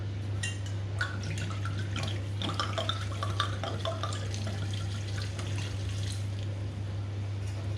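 Wine glugs and splashes into a cooking pot, with a run of liquid drips and trickling pours over a steady low hum in a home kitchen.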